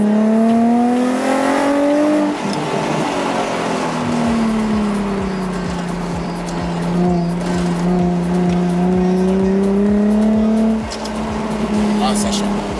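A right-hand-drive Nissan 350Z coupé running on ethanol revs hard and loud up close, its engine note climbing and dropping through several pulls with a steady throbbing rumble, while people talk over it.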